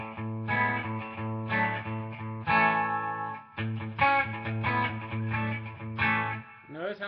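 Electric guitar with distortion playing a riff at a fast tempo, close and clear, rapid chugging notes in repeated phrases with brief gaps between them.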